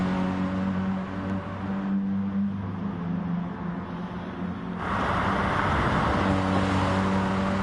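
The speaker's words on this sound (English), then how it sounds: "How long will NGR Saxo stretch out this stint of the race?" Racing engines drone steadily in a GT Sport video game race of hot hatches, a continuous tonal whine with engine harmonics that dips briefly and then returns louder as the cars run on without talk.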